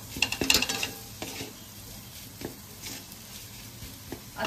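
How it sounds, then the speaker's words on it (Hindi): Spicy masala being mixed into mashed potatoes in a pan, with a few scraping spoon strokes and clinks early on, then softer intermittent stirring over a faint background sizzle. "मसाले के साथ आलू अच्छे से मिक्स कर लेंगे।"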